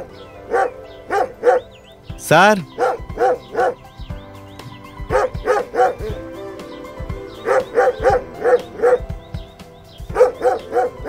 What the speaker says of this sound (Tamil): நாய் இருக்கு சார் உள்ள.